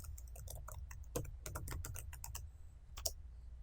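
Fast, irregular keystrokes on a computer keyboard, clicking in short bursts as a folder name is typed, close and fairly quiet, with no voice.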